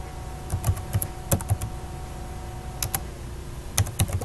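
Keys on a computer keyboard are tapped in short scattered bursts of crisp clicks, close and alone in a quiet room.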